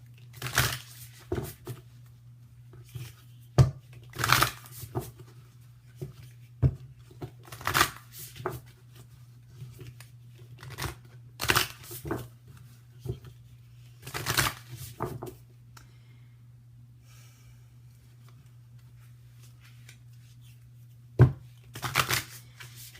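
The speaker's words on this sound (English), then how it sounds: "I'm going to pull some Whispers of Love angel cards here for you." Whispers of Love angel oracle cards are shuffled in repeated soft riffling bursts over a steady low hum. The shuffling is close and quiet, with pauses between the bursts.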